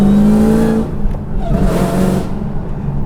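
A 1,000-horsepower Dodge Challenger Hellcat revs hard close by, a loud engine howl that falls away then climbs again in a short burst.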